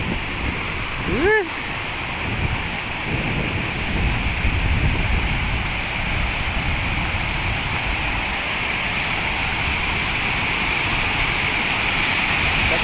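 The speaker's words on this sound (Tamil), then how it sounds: "தண்ணி எப்படி ஊற்றுக்கிற பாருங்க" Water pouring over a check dam on the Amaravathi river in Tamil Nadu, a steady broadband rush close by, constant and loud, with a brief tonal whistle-like sound near the start.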